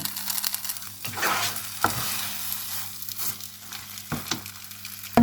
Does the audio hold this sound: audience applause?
no